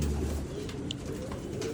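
Young pigeons in a loft give a brief soft coo amid steady low-pitched ambient rumble and rustle, close and continuous with no talk.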